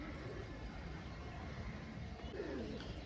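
Pigeons coo quietly at a busy bird market, their soft throaty calls faint beneath a constant wash of crowd noise and distant voices over a few seconds.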